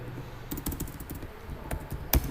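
Quick clacking keystrokes on a computer keyboard while entering HTML code, a steady run of close taps with a louder key hit near the end, no talking.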